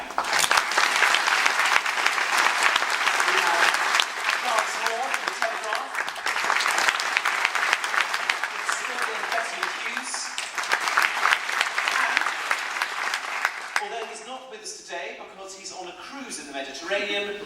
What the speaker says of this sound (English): ladies and gentlemen, a round of applause, please, for author and broadcaster Melvyn Bragg.